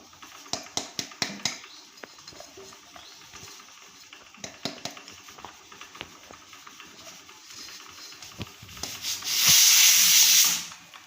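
Moong dal halwa is stirred and roasted with ghee in a pan, giving soft scraping and rubbing strokes in an irregular rhythm, with a brief louder sizzling hiss near the end; close and fairly quiet.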